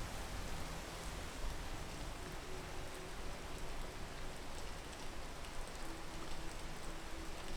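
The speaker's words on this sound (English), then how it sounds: "Come on, Rain, go away." Steady rain falls in a video game, a continuous even hiss with scattered droplet patter, quiet and unbroken throughout with no talking.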